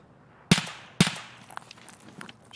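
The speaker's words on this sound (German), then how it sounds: "Schüsse von vorne, oder?" Two sharp gunshots in the video game Escape From Tarkov in quick succession, each with a short ringing decay, followed by faint scattered clicks.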